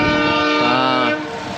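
Train crossing the Pamban bridge sounds a long sustained horn blast, loud and fairly near, which cuts off and leaves a lower rumble of the moving train.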